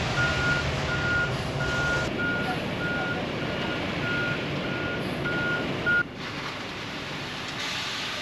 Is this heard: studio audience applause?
no